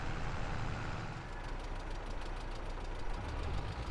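A truck engine idles steadily in Farming Simulator 22, a continuous rumbling, slightly knocking drone heard up close without any talk.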